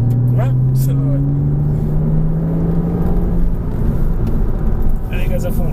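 A car engine drones close by with a rising pitch as it accelerates, steady rumble throughout, with a voice speaking over it.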